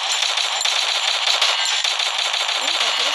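Rapid automatic gunfire in a shooting video game, a dense, steady burst of shots rattling loud and close for a few seconds.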